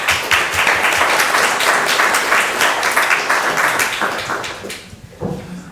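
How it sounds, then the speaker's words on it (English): Audience applause after a talk at an artificial intelligence session, loud sustained clapping from a room of people that tapers off near the end with a few last claps. "I'll give him another clap."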